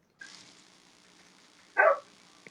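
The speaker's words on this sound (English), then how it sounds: "I'm trying to block out the sound from my dogs." Household dogs give one short bark in the background of an indoor live stream, heard over a faint steady hiss.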